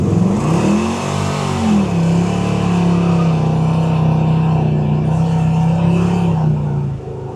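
A 1969 Chevrolet Chevelle Yenko 427 tribute restomod coupe's V8 revs up loudly close by, its note climbing and dipping early, then holding a steady high-idle roar before dropping off at the end.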